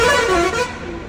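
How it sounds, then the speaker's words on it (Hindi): Car horns blare with a reverberant, echoing quality inside a road tunnel, overlapping in a short burst amid the rumble of traffic. "हॉर्न का साउंड देखो कैसा सराउंड हो रहा है इसमें."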